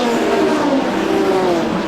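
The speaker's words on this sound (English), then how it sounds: "These cars sound absolutely incredible. Echoing through the valley here on the pit straight here at Cadwell Park" Racing cars, including a Mark 1 Escort, roaring along the pit straight at Cadwell Park, a steady loud engine drone with rising tonal whine echoing across the valley, continuous and close.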